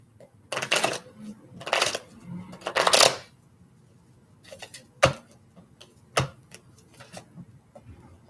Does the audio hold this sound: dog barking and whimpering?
no